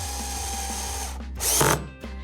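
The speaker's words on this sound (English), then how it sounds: "With the drill set on a medium clutch, I'm gonna go ahead and tighten the fasteners." A power drill on medium clutch whirs steadily while driving fasteners into inserts on a Hobie 2020 Outback kayak, then stops, ending in a short louder burst, close up and with no talk.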